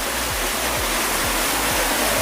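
Water pours steadily at the Lower Ghaghri waterfall in Netarhat, a loud, close, unbroken rush that fills the whole clip, with faint low thuds recurring beneath it.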